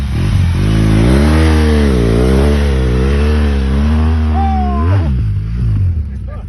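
A big BMW motorbike engine revs loudly up close in a steady, throaty drone that rises and falls in pitch over several seconds before dropping away.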